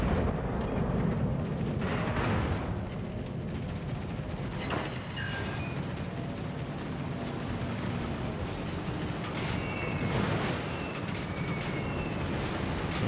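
Anti-aircraft defensive fire from a warship in a naval video game, a dense continuous roar of rapid flak and battle noise throughout, with brief whistling tones overhead.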